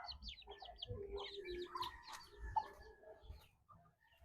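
Livorno and bantam chickens cluck softly nearby in short irregular bursts, with a few sharper calls rising above the quiet farmyard background.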